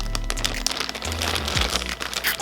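Plastic wrap being pulled off a dust bag holding a Telfar shopping bag, giving close, continuous crinkling and crackling with a low hum underneath and no talking.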